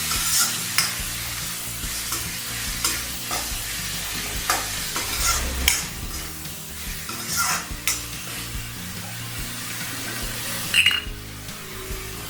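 Vegetable fried rice with black pepper stir-fried in a pan: steady loud sizzling under continuous spatula scraping and frequent metallic clinks, with no talking.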